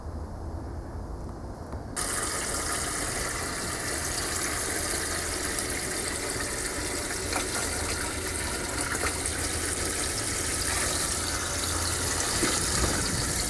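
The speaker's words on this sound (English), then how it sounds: "I'm going to put a little water in there, and then once I get a little water, I'll add that, and then I'll keep adding water" Water running steadily into a container of washing soda mix for an electrolysis rust-removal setup, a continuous close rushing pour that starts abruptly after a brief quieter moment and keeps flowing.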